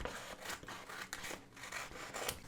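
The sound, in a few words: cutting paper for a reading journal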